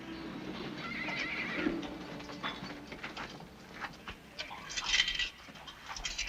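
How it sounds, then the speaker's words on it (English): In a 1951 Western film, a horse whinnies nearby, followed by faint hoof clip-clops and a second higher neigh, with a light mechanical rattle in the background. "Jerry, take the horses back to General Johnston's camp"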